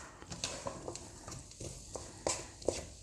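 Chopped ingredients are stirred and tossed in a pan for chicken in black bean sauce, giving soft irregular scraping and clattering strokes with a faint sizzle underneath, quiet and close.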